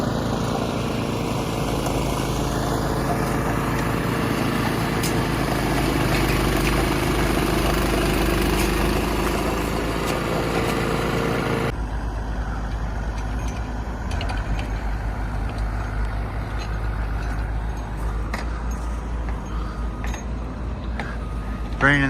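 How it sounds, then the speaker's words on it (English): An excavator's engine idles at a snow-covered work pad in Mammoth with a steady, low, droning rumble that holds for over twenty seconds and shifts in tone partway through. "Bring in the excavator"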